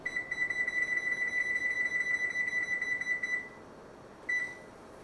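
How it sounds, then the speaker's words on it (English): A kitchen timer sounds a continuous high electronic beeping for several seconds, then stops, and one short beep follows, close by in a quiet kitchen. "Turn my timer on."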